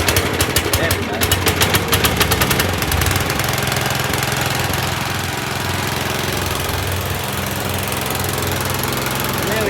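An old tractor engine idles with the choke on, running loud and steady throughout with a rough, chugging rumble and a burst of sharp, rapid popping knocks in the first few seconds.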